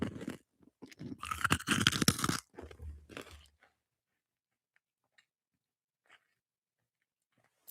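Freeze-dried sour Skittles crunching loudly and close in the mouth, a burst of dense brittle crackles over about three seconds, then near silence with a few faint ticks.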